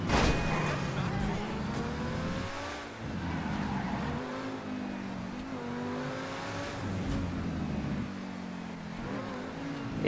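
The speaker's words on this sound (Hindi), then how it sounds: "बहुत जल्दी एक्सेलरेट होती है गाड़ी" A Lamborghini Terzo in GTA 5 speeds up along a twisting road. Its engine rises through several revving sweeps with a few shifts and a brief tire squeal, loud and steady across the whole stretch.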